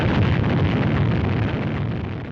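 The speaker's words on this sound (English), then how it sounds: "After rising but a few feet, the three-stage 72-foot rocket loses its thrust." A three-stage, 72-foot rocket loses thrust after rising a few feet at launch and explodes, heard as a loud, sustained roaring blast that slowly fades.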